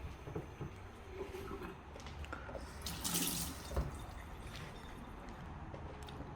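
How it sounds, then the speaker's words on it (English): Tap water runs steadily into a cooking pot, a continuous close splashing and gurgling that swells briefly midway, with no talk over it. "I made sure to fill this thing to a T, because I'm scared of the water drying up."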